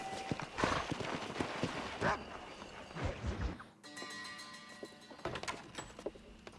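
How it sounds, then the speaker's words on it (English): Rhythmic hoof clip-clops of a horse in Red Dead Redemption on a hard surface close by, followed by a brief whinny-like sound and lighter footsteps, with a faint voice. "Can you stay here, Mr. Horse? Can you behave yourself?"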